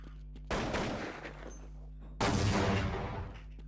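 Two loud bursts of rapid gunfire from Counter-Strike 1.6 come one after the other, each a dense rattle of shots lasting over a second, with a constant low hum beneath them.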